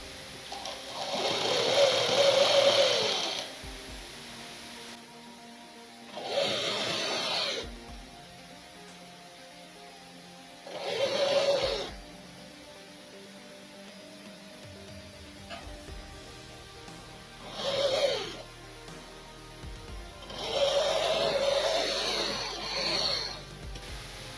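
A sewing machine runs in five separate bursts while stitching the lining of a blouse sleeve. Each burst lasts a second or two and the longer ones come first and last, with quiet gaps between them and no voices.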